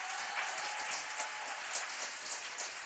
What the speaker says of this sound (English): we've got about 20, 25 parents up here in the stands cheering on the kids